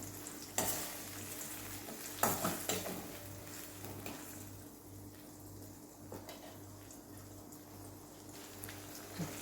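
Tomatoes simmer and soften in a pan for a potato curry with gravy, giving a quiet, steady sizzle with occasional stirring clinks and brief louder scrapes, and no talking.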